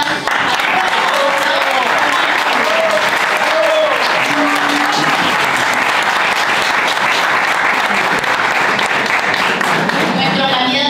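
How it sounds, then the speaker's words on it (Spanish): Loud, sustained applause and clapping from a political rally crowd greeting Fuerza Republicana's gubernatorial candidate in Tucumán, dense and unbroken throughout with crowd noise and some voices mixed in. "Un fuerte aplauso para"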